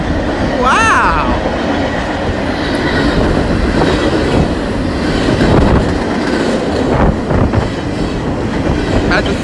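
A freight train hauling wind turbine parts rolls past at close range in Norman, a loud continuous rumble with clickety-clack of wheels and a brief squeal, while someone talks over it.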